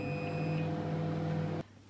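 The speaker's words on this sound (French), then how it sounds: "Maintenant, je vais mettre ça au micro-ondes pendant 1 minute 40." A microwave oven hums steadily and loudly at close range while heating a chocolate mug cake, a tonal drone with a high whine over it that cuts off abruptly as the oven stops, leaving a faint quiet room.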